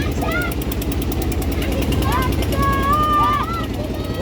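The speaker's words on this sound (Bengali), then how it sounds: "নৌকা চলে এলো," A motor boat arrives on a river, its engine a steady, loud, throbbing drone that runs the whole time while people talk over it.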